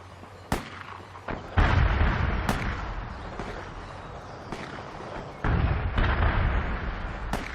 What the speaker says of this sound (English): Fire some rockets